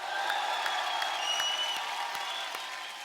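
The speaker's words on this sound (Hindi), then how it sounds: "जुबीन के लिए जोरदार ताली हो जाए और हमारे म्यूजिशियन दोस्तों के लिए जोरदार तालियां हो जाएं" A studio audience applauds Jubin and the musicians on a comedy talk show, with sustained, even clapping from a large crowd and faint cheering and a few tonal traces mixed underneath.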